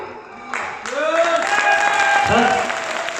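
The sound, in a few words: audience applause at meeting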